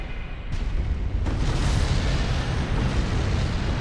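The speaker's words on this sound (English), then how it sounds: "Oh, hi, cannons." Cannons firing in the video game Bloodborne, heard as a loud, sustained booming roar with abrupt onsets near the start that keeps rumbling without any speech over it.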